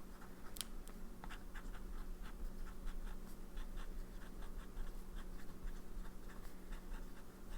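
A Faber-Castell fountain pen with a broad nib writes on paper in Birmingham Pen Company Provence Lavender ink, giving faint, close, scratchy strokes in short irregular bursts over a quiet background hum.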